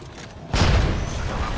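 Fireworks exploding in a video game, a sudden loud boom followed by a rumbling, crackling tail that lingers for about a second, with no talk.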